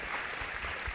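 An audience at a panel discussion on educating refugees applauds, a dense, even patter of many hands clapping that fills the whole moment, with no talk.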